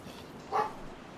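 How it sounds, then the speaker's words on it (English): A single short dog bark in the video game DayZ, moderately faint and brief, set against quiet background ambience. "now the dog's having a go."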